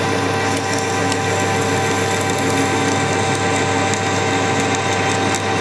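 Continuous mechanical whirring and grinding of a lathe drilling metal with a 9.5mm drill, steady and fairly loud throughout with faint high-pitched rattling.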